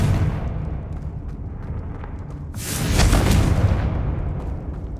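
A Confringo fire spell goes off in Hogwarts Legacy, one loud fiery explosion bursting about midway through and rumbling out over a low background drone.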